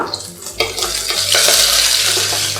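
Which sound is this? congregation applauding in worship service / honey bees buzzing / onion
onion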